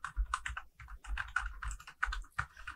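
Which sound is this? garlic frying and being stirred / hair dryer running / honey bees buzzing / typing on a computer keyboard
typing on a computer keyboard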